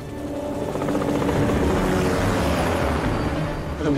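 A helicopter hovers nearby in a superhero action scene, its rotor producing a loud, steady, throbbing roar that swells slightly and holds for the whole stretch, with no voices.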